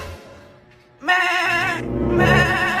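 A single goat bleats loud and close in a wavering, nasal call that runs for over a second. No speech comes before or after it.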